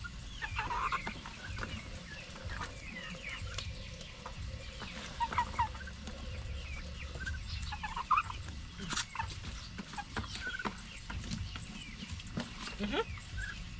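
Chickens, including roosters and hens, cluck and call repeatedly in a backyard garden, close and fairly loud. A person talks alongside them and the birds carry on underneath the speech.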